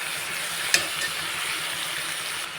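Bottle gourd curry sizzles in a pan as it is stirred, a steady frying hiss throughout with a sharp utensil clink against the pan near the start.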